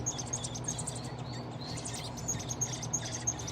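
Nestling robins being hand-fed at a wildlife rehabilitation setting give high, thin chirps that repeat in an irregular run and sit over a steady low hum in the room.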